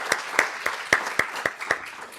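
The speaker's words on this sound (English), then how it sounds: "please give a round of applause to our panel and our moderators" Applause at a business panel discussion on debt financing, honoring the panelists and moderators: a steady run of about eight sharp, evenly spaced claps over a soft wash of background clapping, moderately loud, with no talking.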